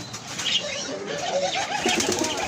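Pigeons flutter and shuffle their wings close by while soft, low cooing rises and falls throughout; no one speaks.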